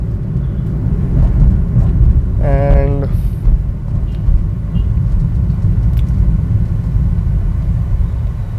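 A 2014 Hyundai Xcent engine hums and rumbles steadily from inside the cabin, accelerating in second gear around 3500 rpm, with a brief rising whine midway and a word spoken over it.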